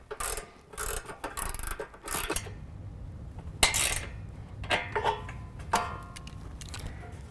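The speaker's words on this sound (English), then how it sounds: "put a 5 millimeter Allen head into the bottom and then tighten down with a 13 millimeter on the top" A ratchet wrench with a 13 mm socket tightens a bolt on a hoop step bracket of a Ford F-series SuperCrew, giving repeated bursts of quick close clicking separated by brief pauses.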